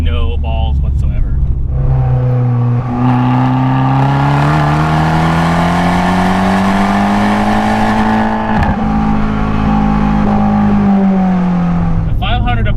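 Fiat 500 Abarth with a manual gearbox revving its engine up close, a loud rising then falling engine drone sustained for several seconds, with faint voices in the cabin.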